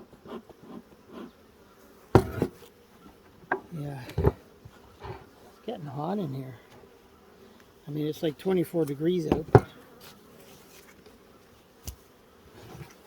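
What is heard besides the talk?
honeybees buzzing around a hive during inspection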